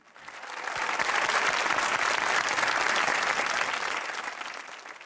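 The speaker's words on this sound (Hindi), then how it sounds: "आपकी तालियों अली असगर कपासी।" Studio audience applause on a Pakistani comedy talk show, a steady full burst of clapping that swells in quickly, holds loud for several seconds, then begins to taper.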